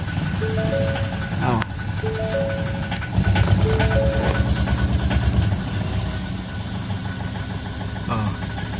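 A Ford Ranger 2.2L engine, one with a fault, turns over and settles into a steady, loud, close idle that continues throughout, with faint beeps and talk mixed in.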